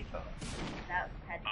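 Short, punchy blaster shots aimed at a shield generator in the strategy game Star Wars Empire at War ring out in a quick cluster over a constant rumbling battle bed, with a voice talking beneath.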